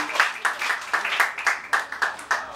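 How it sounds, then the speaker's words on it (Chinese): Rhythmic clapping from an audience welcoming a Madagascan musician onstage at an Austronesian culture night, moderately close, with roughly a dozen evenly spaced claps in a steady beat that does not build. "我们就热烈的掌声，我们邀请我们的伙伴，马达加斯加的音乐家"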